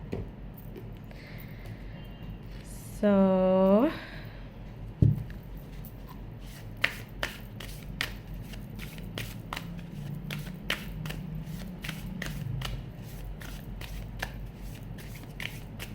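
Tarot cards being shuffled and drawn by hand at close range: a brisk riffle shuffle, then a series of soft taps and slides as cards are laid out, in a quiet room.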